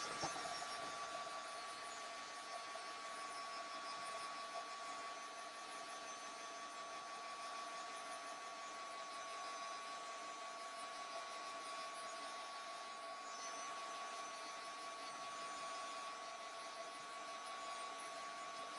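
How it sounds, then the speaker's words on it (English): A heat tool warms a mixed media craft tag with a steady, continuous blowing whir that holds at an even level throughout, close and unbroken, with no talking over it. "I'm going to go ahead and give this a quick heat set so that everything kind of melts and gets yummy on there"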